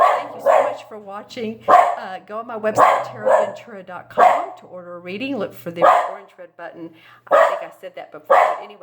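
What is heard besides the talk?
dog barking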